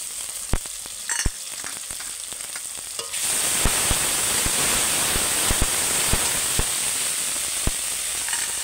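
Ginger and garlic paste hits a hot pan: a few soft clinks, then a loud, sustained sizzle sets in, dotted with sharp scraping and stirring knocks from a utensil.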